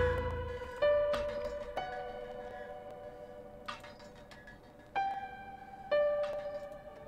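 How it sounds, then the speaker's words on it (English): Piano notes ring out one at a time with long decaying sustains, a slightly wavering, out-of-tune tone gradually giving way to a cleaner piano sound. "we're going to swap between the detuned piano and the actual piano"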